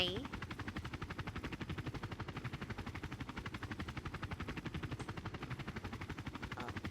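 Video game helicopter hovering while looking for a landing spot: a steady, fast rotor chop pulsing evenly throughout at moderate loudness.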